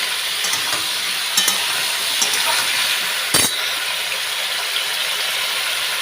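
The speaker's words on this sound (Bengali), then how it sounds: "একটু ভাজা হচ্ছে হোক" Ridge gourd and potatoes with turmeric sizzle steadily in a hot pan, with a few brief clinks of a utensil stirring; no talking.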